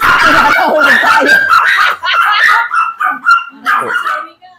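Dogs at a breeder's, including one named Apollo, barking and yipping close by in quick, loud bursts, with some whimpering between barks.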